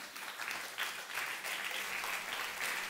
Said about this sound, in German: Du bekommst einen riesen Applaus hier